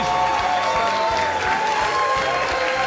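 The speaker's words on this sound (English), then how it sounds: "Let the noise of your completely genuine applause die away quite naturally, like some sort of rippling pool" A late-night talk show studio audience applauds and cheers in a continuous wash of clapping, loud and unbroken throughout, with a faint voice and a steady tone beneath it.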